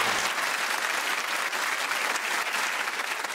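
Studio audience at a comedy panel show clapping steadily, a dense even wash of applause that holds at full level throughout without talk.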